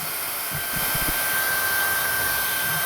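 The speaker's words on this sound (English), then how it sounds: "So heat gun, it's on max." A heat gun runs on its maximum setting during motorhome rot repair, a steady, loud, continuous airy blowing roar with a faint tonal whine and a few low thumps early on.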